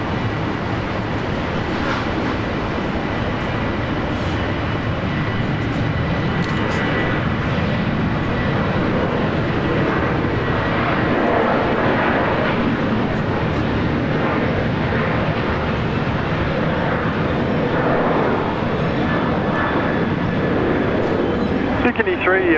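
Boeing 767 jet aircraft at Brisbane Airport, a continuous broad engine roar held steady throughout, loud and somewhat distant with outdoor wash.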